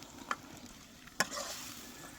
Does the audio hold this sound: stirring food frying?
yes